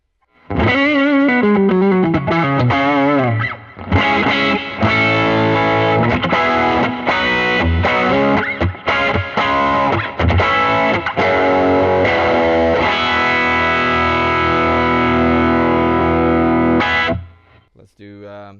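A Greco electric guitar played through a distortion pedal and a GE7 EQ pedal, with sustained, heavily driven chords and melodic runs, loud and continuous for most of the passage before stopping abruptly near the end.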